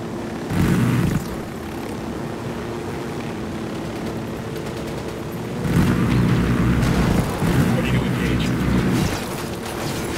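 Helicopter shot down during a Ghost Recon Wildlands firefight, with low rotor and engine rumble swelling in two heavy bursts, a deep boom-like roar near the middle and again near the end, under faint game ambience.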